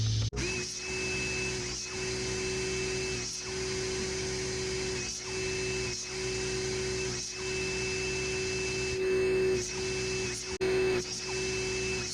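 A power saw rips scrap wood into 2.5-inch strips for turning yo-yos, giving a loud, steady motor whine with a high tone that dips briefly at regular intervals as each pass is made.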